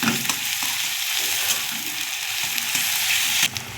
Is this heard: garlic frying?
yes